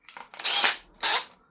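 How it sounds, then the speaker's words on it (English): A handheld power drill runs in reverse to back out and release its bit, giving two short whirring bursts close by with a brief pause between them. "Back it off, put the drill in reverse, hold the chuck"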